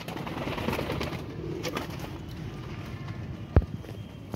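Pigeons at a crowded loft stand make low, steady cooing and rustling sounds, with one sharp tap near the end, all under a continuous hum of ambient noise.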